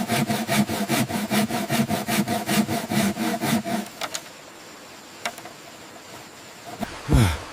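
A hand saw cuts through wood at a remote snowy wilderness building site, steady rapid back-and-forth strokes loud and close for about four seconds, then stopping, leaving quiet ambience with a couple of faint knocks and a brief swish.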